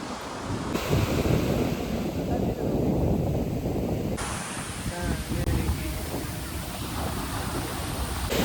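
Sea surf breaking on the beach at Daman makes a continuous, close wash of broadband noise, with heavy wind buffeting on the microphone throughout.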